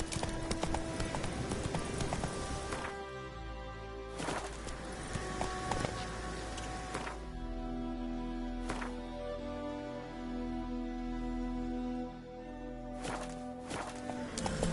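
Roach, the horse in The Witcher 3, trots with steady rhythmic hoofbeats at close range while someone briefly speaks over them.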